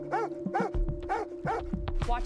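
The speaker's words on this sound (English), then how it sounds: "Dogs stood stranded on porches," Dogs barking in a city flooded by Hurricane Katrina in 2005, stranded on porches: a run of repeated, fairly close barks and yelps over steady background noise and a low hum.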